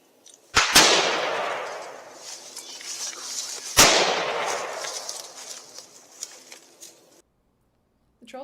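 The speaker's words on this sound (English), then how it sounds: "captures the sound of the suspect firing at SWAT officers as well as the return fire" Two loud, sharp gunshots about three seconds apart, each trailing off in a long echoing decay, during a Charleston, South Carolina SWAT shooting in which a suspect fires at officers and a SWAT rifle returns fire.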